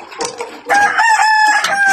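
Chickens on a farm in rural Antipolo, Rizal: a few close clucks, then a loud rooster crow held for over a second, with other hens clucking around it.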